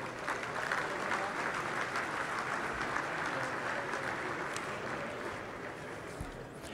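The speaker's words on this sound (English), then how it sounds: "how about a round of applause?" A crowd at a governor's luncheon for Scouting applauds steadily, a dense wash of clapping that holds strong throughout and tapers only slightly at the end.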